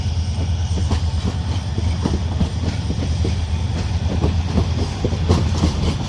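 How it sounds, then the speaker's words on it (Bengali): A passenger train runs past on the Dhaka–Chittagong railway line, its wheels beating a steady clickety-clack over a continuous low rumble, loud and close throughout with no voices. "আরেকটা ট্রেন যাচ্ছে ঢাকা চট্টগ্রামের রেলের রাস্তা দিয়ে।"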